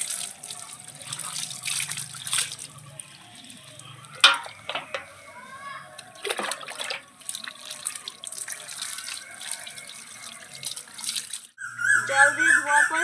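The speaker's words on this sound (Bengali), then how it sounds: "এবারে আমি মাথাটা ধুয়ে নেব।" Running water splashes and pours while hair is rinsed after a natural hair-darkening paste left on for about two hours, an uneven stream with sharper splashes and drips, and brief voice sounds at moments.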